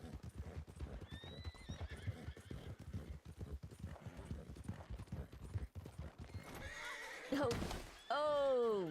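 Horse hooves clip-clop at a quick gallop in the Red Dead video game, ending with loud, close neighs and whinnies, while a person talks over the action.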